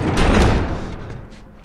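A heavy door being shoved shut and barricaded in The Last of Us, a loud scraping, sliding rumble that swells quickly and then fades away, close by with no talking.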